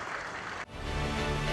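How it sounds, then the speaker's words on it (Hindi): A crowd at the Agra civil airport terminal foundation ceremony applauds, a dense steady roar of clapping that dips briefly and then swells again, loud and continuous. "मैं चाहूंगा एक बार उन किसानों के लिए भी जोरदार"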